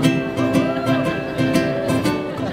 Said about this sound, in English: the very first 3 chords that I learned were the chords to the Hawaiian vamp